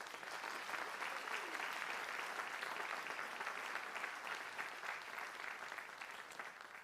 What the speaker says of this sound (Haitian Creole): Nous avons mis main nous ensemble pour nous applaudir Choral Grace.